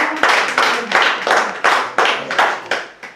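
An audience at a Kimezamiryango Club gathering claps in about ten loud, rhythmic bursts, each sharp onset fading quickly, close and clear with no talking over it.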